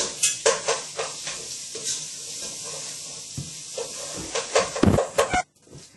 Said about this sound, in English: We're just going to saute this up.